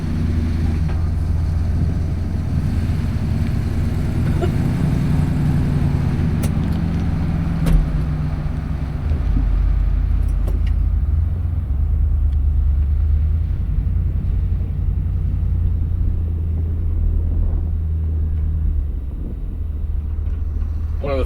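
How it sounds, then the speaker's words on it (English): A 1966 Mercury Park Lane convertible on the road, heard as a steady low engine rumble and road noise from inside the car, continuous and fairly loud. "let's take this thing for a ride."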